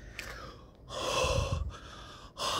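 Heavy, rasping breaths sound close to the microphone in the style of Darth Vader, a quick gasp followed by long, hissing exhales and a sharp inhale, with no talking.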